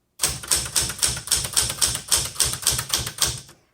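Typing on a 1970s Smith Corona Galaxie 12 manual typewriter: a steady run of sharp, close keystrikes in a brisk, even rhythm for several seconds, with no voices.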